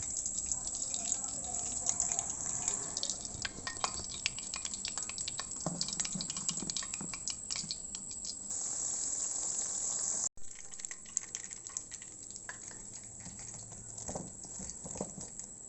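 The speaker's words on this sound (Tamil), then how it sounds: "மீதி சிக்கனையும் நம்ம இது மாதிரியே போட்டு பொரித்து எடுத்துடலாம்" Chicken pieces deep-frying in hot oil for crispy honey chicken give a dense, steady sizzling hiss that crackles continuously and briefly drops out before resuming slightly quieter.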